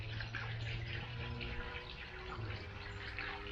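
Water splashing and gurgling steadily into a car radiator after the hoses are reconnected, a continuous close rushing pour that runs the whole time with no talking.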